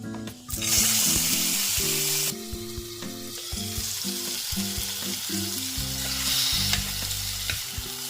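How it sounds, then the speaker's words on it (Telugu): Chopped tomatoes frying in a pan, a loud close sizzle that flares as they hit the hot oil and then settles into a steady hiss, with music playing over it. "ముక్కలుగా కట్ చేసుకున్న టమాటాలను ఇందులో వేసుకుంటాం"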